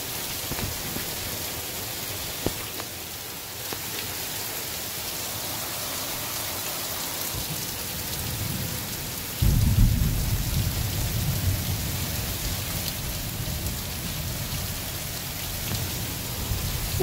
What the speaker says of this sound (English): First big storm of the season,